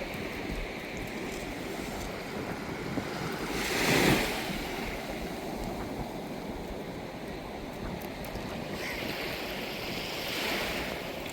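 Ocean waves wash in and break on a beach against a steady rush of wind, with one louder surge partway through and another softer one near the end.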